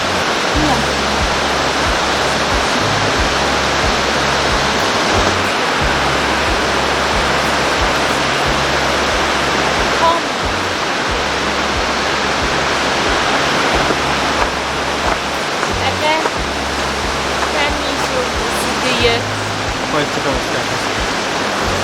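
A Swiss waterfall crashes down in a constant, loud, broadband roar. Low thumps and handling noise show intermittently beneath the rushing water.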